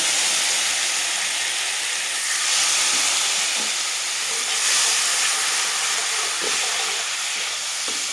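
A steady, loud hiss and sizzle rises as water hits a hot pan of eggplant curry seasoned with turmeric and salt, with a broad steamy rush that swells slightly and stays constant, with faint stirring scrapes underneath.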